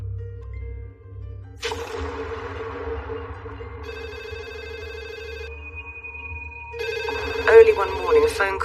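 A telephone rings in short repeated electronic trills over a low hum and background music, with a voice speaking toward the end.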